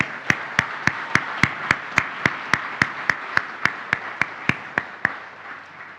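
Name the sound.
audience round of applause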